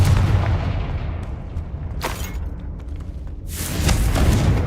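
In Hogwarts Legacy, the Confringo blasting spell detonates amid a goblin fight: a burst of heavy rumble, a sharp crack partway through, then a louder, sustained blast toward the end over a low, continuous roar.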